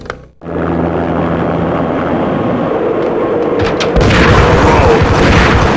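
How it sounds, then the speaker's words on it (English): An armed helicopter landing on manor grounds in the Max Payne video game, a loud continuous rotor and engine roar that swells heavier toward the end after a brief boom at the start. "An armed helicopter just landed on the manor grounds."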